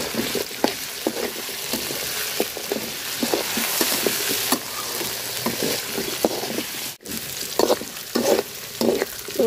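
Onion, chili and potato frying in a pan: a steady close hiss and crackle of hot oil, with repeated scraping and stirring strokes and a brief pause near the middle, with no voices.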